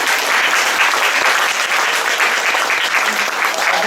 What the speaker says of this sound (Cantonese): 咁所以呢度咧更加要俾啲掌聲